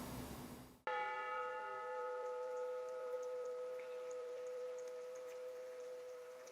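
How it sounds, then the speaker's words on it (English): Bells ring across Hiroshima on the morning of August 6th, a single struck bell tone with long sustained harmonics swelling clearly and decaying slowly over several seconds, loud and alone with no voices. "bells ring across Hiroshima"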